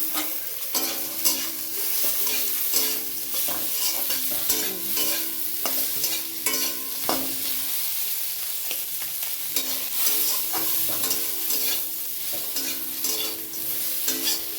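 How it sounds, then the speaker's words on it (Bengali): Small puti fish frying in a pan with fried onions, a steady close sizzle broken by repeated stirring and scraping strokes throughout. "পুঁটি মাছের ভাজা"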